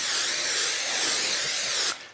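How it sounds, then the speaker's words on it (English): Cooking spray sprayed onto lasagna noodles on a sheet pan, a single steady close aerosol hiss lasting nearly two seconds before cutting off abruptly, with no talking. "I'm going to spray it a little bit."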